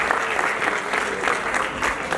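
An audience claps at an album song launch for a wrestler-themed song, a dense steady round of applause with a few crowd murmurs, sustained throughout.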